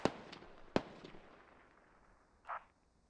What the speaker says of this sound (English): they're calling a mortar barrage